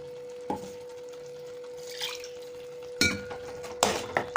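A spoon scrapes and clinks against a pan as ground tomato is stirred in for an egg curry, with a few sharp metallic knocks over a quiet background and a steady faint hum.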